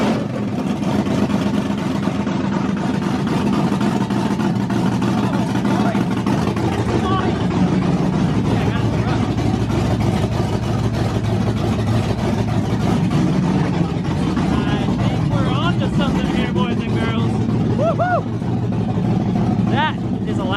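The LS-swapped 1962 Chevy pickup engine runs loud and rumbling right after its first start, a continuous close-up roar that fills the scene while people talk over it.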